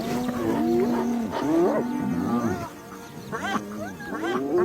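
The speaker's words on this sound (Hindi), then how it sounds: "लकड़बग्घों ने अपने साथियों को बुलवा लिया है और शोर शराबा बढ़ गया है।" Hyenas call and clamor around a lion kill, a dense overlapping chorus of whooping, rising and falling cries and groans that stays loud throughout, with a brief lull midway before fresh calls break in.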